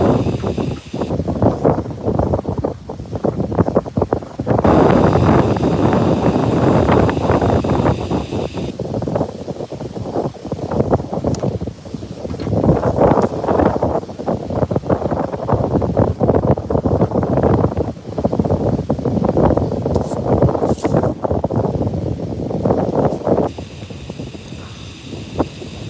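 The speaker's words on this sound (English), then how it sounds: "it's really windy" Strong wind buffeting the microphone at a pond, a loud continuous roar that surges and eases in gusts over the whole stretch, with faint rustling beneath and no voices.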